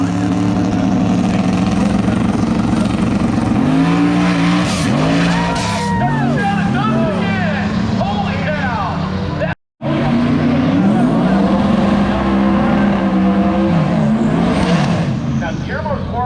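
Drag race car at a drag strip, its engine roaring loudly with rising and falling pitch sweeps as it stages and launches, under an announcer's continuous commentary, with a brief dropout midway.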